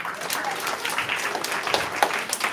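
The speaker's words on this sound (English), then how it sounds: "do we need to give a round of applause?" Lively applause from a room of students and hosts at a community STEAM event, with many overlapping hands producing a dense, uneven clatter of sharp claps that holds for about two and a half seconds.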